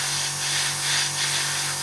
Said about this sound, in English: very, very lightly, I'm just going to spray this on